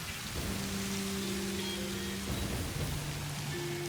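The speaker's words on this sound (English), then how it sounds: "Actual drops of water hitting the concrete." Steady rain hisses continuously across the scene in the video game Satisfactory, with drops spattering on concrete and a low rumble of thunder, accompanied by faint sustained tones; no one speaks.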